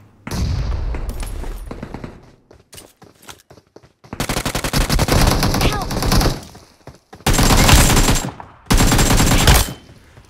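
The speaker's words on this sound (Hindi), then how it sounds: "अब इवेंट की उस तरफ से भी फायरिंग की साउंड आ रही थी" Automatic gunfire in the battle-royale mobile game BGMI, with several loud, close bursts of rapid shots separated by short pauses, plus lighter distant shots early on.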